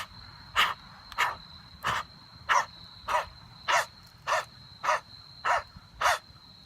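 A person imitates dog panting with the tongue stuck out, a steady run of about ten sharp breathy huffs at an even rhythm, close and alone with no talk.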